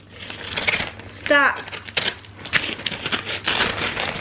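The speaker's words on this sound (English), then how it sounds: "I'm ripping the paper, we need scissors." Wrapping paper is torn by hand in several quick rips and crinkles, close and fairly loud, with people talking in between.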